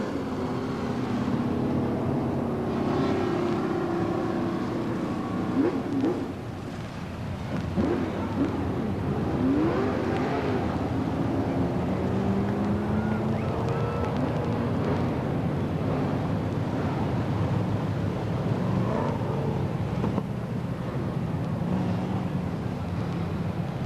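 BriSCA Formula 1 stock cars at Bradford in 1994 slow down under caution: a continuous, distant rumble of several engines drifting and overlapping, with no sharp revving, steady and fairly quiet throughout.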